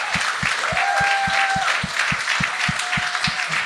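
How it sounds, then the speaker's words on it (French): Audience applause at a live talk show taping: a dense wash of clapping held for several seconds over steady rhythmic low thumps. "On lui a donné une bonne main d'applaudissement tantôt, mais il en mérite un autre."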